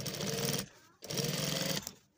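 A sewing machine stitches a designer collar in a three-piece method, running in two steady close bursts with a brief pause between them.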